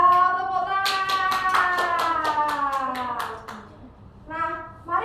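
Children in a classroom clap together in a short burst of applause, alongside a bright musical chime or tone sequence that rises and falls and returns briefly near the end.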